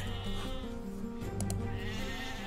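Sheep bleat from the Age of Empires II video game, several overlapping bleats at moderate volume with continuous game audio beneath.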